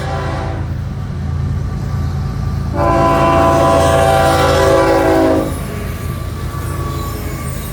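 A northbound FEC Railway train passes close by, its rumbling wheels and clatter steady throughout while the horn blasts loudly for a couple of seconds in the middle.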